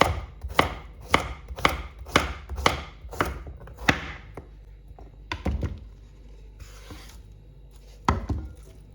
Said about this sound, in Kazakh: Осындай кесеміз. Қатты жұқа қылдырмаңыздар, себебі капуста енді тұздалады бірге.